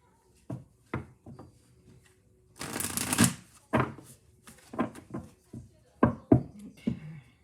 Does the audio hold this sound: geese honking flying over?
no